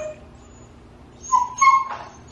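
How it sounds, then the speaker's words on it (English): A dog whimpers in a few short, high, nasal whines near the end, fairly close, after a quiet stretch of low background hum. "this dog can't not be quiet"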